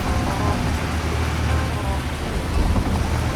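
Rain falls steadily around a CAT 323GC excavator on muddy ground, making a dense, continuous, loud hiss over a low rumble that never lets up.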